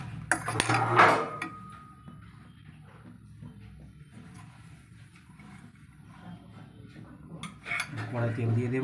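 A wok (kadai) is set down on a lit gas stove, giving a sharp metallic clank near the start, followed by low rumbling and another scrape of metal at the end.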